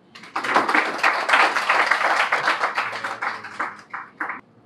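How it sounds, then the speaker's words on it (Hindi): An audience at an evening literary gathering honoring a film songwriter breaks into warm, sustained applause, with dense clapping that swells quickly and then thins out toward the end. "और आपसे दरख्वास्त तालियों की है।"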